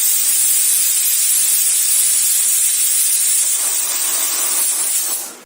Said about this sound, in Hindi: दाल में 5वीं और आखिरी सीटी आ चुकी है।